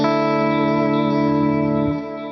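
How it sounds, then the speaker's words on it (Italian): Quad Cortex delay block with high diffusion, the repetitions of a sustained guitar note smearing into a smooth near-reverb wash, loud and steady before easing down near the end. "E la diffusion è quanto queste ripetizioni devono, diciamo, espandersi per diventare quasi un riverbero."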